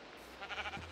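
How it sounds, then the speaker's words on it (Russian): Sheep bleating in a video game, a short wavering bleat heard alone at moderate level. "Ненормальные овцы какие-то."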